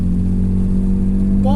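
Old 1983 Mercedes-Benz W123 250 automatic engine held at full throttle, a steady loud droning hum that holds level throughout, with a rising whine near the end.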